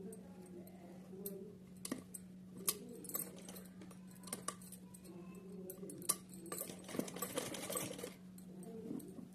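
A sewing machine runs a straight seam to attach a drawstring to folded cotton fabric, a steady low mechanical hum with light ticking and clicks, fairly faint and continuous with small handling noises throughout.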